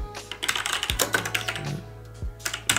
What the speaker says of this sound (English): Open up our command terminal and type in the following.